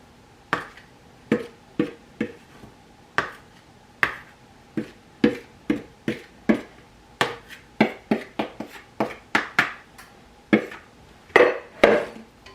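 Flour and cocoa powder being sifted together for a from-scratch cake, heard as a steady series of sharp, close taps and knocks from the sifter, repeating roughly every half second and quickening toward the end.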